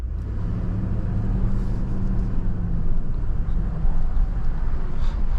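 Toyota Land Cruiser rolling along an overland trail, with a steady low engine and drivetrain rumble holding at an even level throughout, close and continuous.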